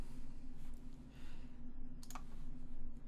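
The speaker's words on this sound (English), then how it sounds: "Duplicate, press D on the keyboard." A computer keyboard key is pressed in a music production studio, giving a couple of brief, light clicks over a steady low hum and faint background sound.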